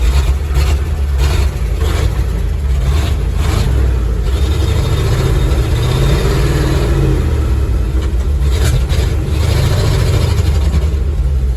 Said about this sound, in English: usually these old trucks fire up